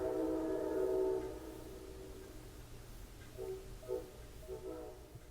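Train passing: a faint, distant horn blast drifts over a low rumble, followed by several short, quieter horn-like tones.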